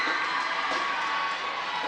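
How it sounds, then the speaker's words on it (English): Ellesmere Port fans cheer their team at a final, a steady, distant roar of crowd voices and shouts holding at an even level without a break. "They're still cheering their team on."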